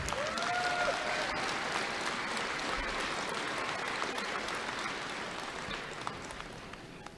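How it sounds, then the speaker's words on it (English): Sustained applause from an audience at the Navajo Technical University spring 2025 commencement ceremony, a dense steady clapping that fills the whole stretch and tapers slightly toward the end, with faint voices in the background. "Let's give another round of applause"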